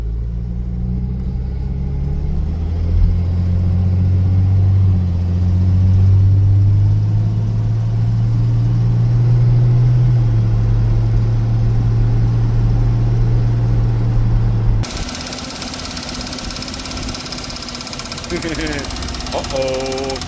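A 1989 Jeep Comanche Eliminator engine runs while driving, a loud steady low rumble that rises and falls slightly, cutting off abruptly near the end to quieter background noise.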